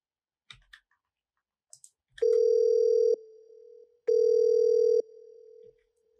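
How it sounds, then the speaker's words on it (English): Telephone dial tone sampled in an Ableton breakbeat track: two steady, loud sustained tones of about a second each, each followed by a quieter lingering tail, preceded by a few scattered clicks. "this is a way more subtle dial tone"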